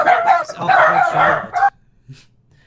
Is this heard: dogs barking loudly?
yes